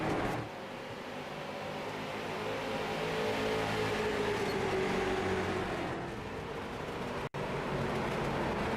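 Race cars lap a short track at Five Flags during a super late model race, engines roaring in a continuous distant pack with a rising and falling whine.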